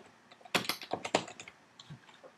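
A computer keyboard clatters in a quick, close burst of several keystrokes as a short word is typed, then falls to a couple of faint taps.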